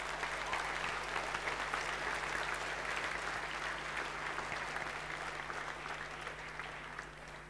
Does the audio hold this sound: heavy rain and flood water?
no